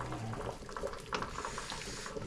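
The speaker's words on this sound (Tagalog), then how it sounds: "Kumukulo." Beef bone broth with vegetables bubbles softly in a pot, small pops and gurgles coming steadily at low volume with faint background hum.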